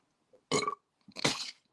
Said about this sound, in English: pardon me, I didn't mean to burp then